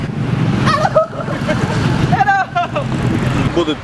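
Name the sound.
heavy road traffic on the road to Jakarta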